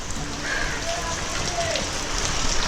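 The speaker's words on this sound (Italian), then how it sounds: "la stagione dei monsoni, piove tantissimo." Dense, steady monsoon rain pouring down on flooded streets in Mumbai, India, in a continuous loud wash, with splashes and faint voices in the background.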